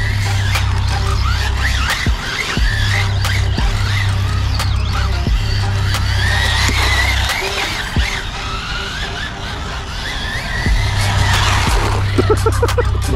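A Kyosho Skyline GT-R RC car on Krait 1.9 bead-lock tires drives a victory lap. Its continuous motor whine and tire scrub carry on steadily, with brief squeaks and clicks mixed in.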